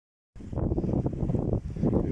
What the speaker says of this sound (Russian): Ветер стал сумасшедшим каким-то, с порывами.